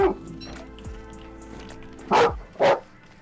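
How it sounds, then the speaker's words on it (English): In the video game Don't Starve Hamlet, a dog gives two sharp, fairly loud barks about half a second apart over a soft, rain-like background patter. "What the heck is he barking at this time of the night?"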